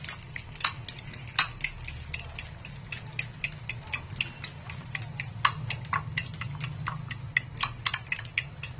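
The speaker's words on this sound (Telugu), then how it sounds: "ఈ ఎగ్గులో కొద్దిగా సాల్ట్, పెప్పరు వేసేసుకొని కలుపుకోవాలి" A utensil whisks egg seasoned with salt and pepper in a bowl, giving rapid, steady, evenly spaced clinks and taps against the side, close up, over a low background hum.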